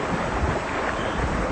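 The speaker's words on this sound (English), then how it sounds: "That's the sound of the sea." Sea waves roll in an animated film set deep underground, a loud, continuous wash of surf and wind-like rushing that fills the short moment with no voices.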